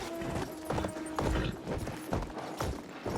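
Horse hooves clip-clop in a steady galloping rhythm in the Battlefield 1 video game, with a Bedouin desert setting, loud and close, and a faint tonal hum underneath.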